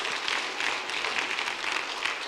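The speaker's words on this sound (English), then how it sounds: "Give yourselves a round of applause." An audience at a motivational talk applauds in a steady, dense wash of clapping that holds for a couple of seconds, moderately loud and fairly close, with no voices on top.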